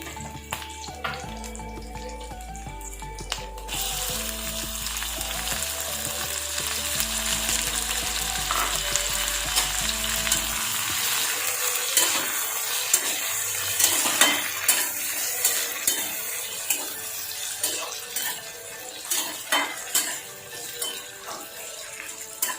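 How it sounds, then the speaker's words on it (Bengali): Chopped tomato frying and being stirred in a pan for palak paneer, a steady loud sizzle with scraping stirring strokes, a low hum at the start giving way to clattering spatula hits in the second half. "টমেটোটা দিয়ে একটুখানি 5 মিনিট নাড়াচাড়া হতে থাক।"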